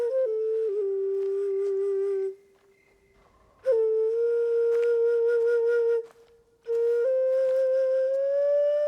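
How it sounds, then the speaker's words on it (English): Sustained breathy tsuchibue flute melody from Assassin's Creed Shadows, long held tones with a couple of brief pauses between phrases, played alone and close. "You always play your tsuchibue when you don't know what to say."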